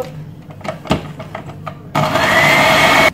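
Electric mixer whirring into marble cake batter with flour, starting after a few knocks and clicks and then running loud and steady for about a second before cutting off.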